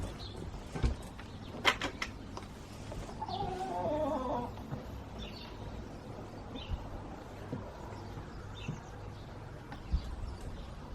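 Newly arrived backyard allotment hens cluck softly in a few short bursts against a steady low outdoor hum, fairly close but quiet, with no talking.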